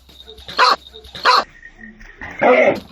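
A newly arrived puppy lets out three sharp, close, high yapping barks separated by short pauses, with a faint high whine between them.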